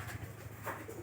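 Pigeons in a coop where several pairs are nesting on eggs give soft, low cooing throughout a brief moment, close by and fairly faint, with no voices.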